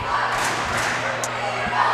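Spectators at a high school basketball game booing, a dense, sustained low roar of many voices from a packed gym, steady throughout with faint scattered shouts.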